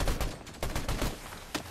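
Flare-gun shots in the battle royale game Fortnite, a quick cluster of loud bangs that keep coming in the fight, with no talking.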